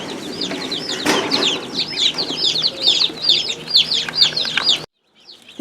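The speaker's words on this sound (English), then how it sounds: "These are the silver-laced Wyandottes." Silver-laced Wyandotte chickens clucking and chirping in a store display, a dense run of repeated bird calls with some wing flapping, fairly close and steady, then cutting off abruptly near the end.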